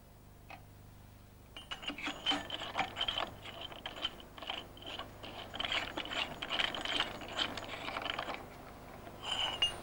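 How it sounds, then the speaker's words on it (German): A ratchet clicks rapidly as a nut is tightened onto a Sachs SW50 moped engine, in repeated bursts of close, crisp ratcheting with short pauses between strokes. "Die Mutter schrauben wir mit dem angedrehten Bund nach unten auf."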